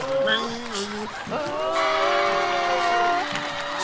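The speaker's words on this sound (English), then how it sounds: "I'm hearing a mixture of boos and cheers" A wrestling crowd at a WWE SmackDown show roars with a mix of boos and cheers, a sustained wash of voices rising and falling under tonal shouts throughout.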